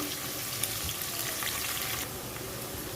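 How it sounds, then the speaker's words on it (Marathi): Finely chopped onion hisses and crackles in well-heated oil for biryani, a close, steady broadband sizzle that drops slightly in intensity partway through. "आणि तेल तर चांगलं तापलेले आहे त्याच्यामुळे आणि एक कांदा बारीक करून घेतलेला आहे तो घालून घेऊया"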